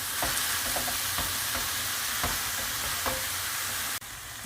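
Spinach filling cooking in a pan, a steady close frying sizzle with soft periodic taps of stirring, continuous and even, ending with an abrupt cut.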